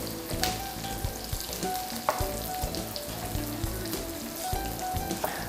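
Ginger sizzling and frying in a pan with oil, a steady crackling hiss with occasional sharper pops and light stirring, close and continuous throughout, no voices.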